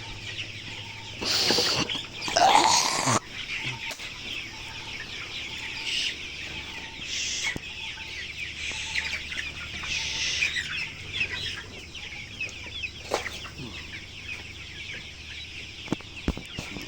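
Thirty-one-day-old coloured broiler chickens on a farm cluck and call steadily throughout, with a few louder, nearer squawks early on over a constant low farm hum.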